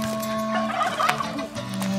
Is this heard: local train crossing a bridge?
no